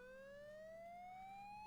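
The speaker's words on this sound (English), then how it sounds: "Sirens?" A rising electronic siren wails outside in the early morning as a sound effect, one steady tone climbing slowly over a low background hum, fairly quiet and continuous with no voices.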